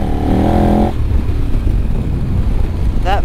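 Dirt bike engine revving hard with its worn Motoz GPS rear tire spinning without grip, a loud continuous motor roar throughout, briefly topped by a rising whine near the start and a squeal at the end.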